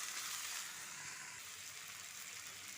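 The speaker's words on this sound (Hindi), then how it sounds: "टमाटर भून रहे हैं," Tomatoes and peas fry in a pan for aloo matar sabzi, a steady close sizzle and crackle running throughout at an even level, with no speech.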